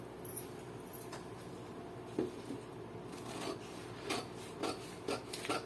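Scissors cut through a paper blouse sleeve pattern close up, giving a soft, steady rasping rub with a few sharper snips and crunches toward the end.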